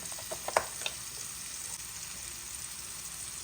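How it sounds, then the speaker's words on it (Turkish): Peppers frying in a pan, a quiet steady sizzle after a few sharp clatters and scrapes of stirring at the start, close up and without speech. "Biber kızarırken"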